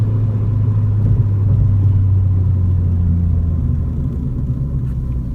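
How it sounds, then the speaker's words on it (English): A Mustang's MBRP exhaust booms with a deep, steady rumble under throttle from inside the car, holding a constant heavy drone that eases slightly near the end. "Now the exhaust comes in under some throttle."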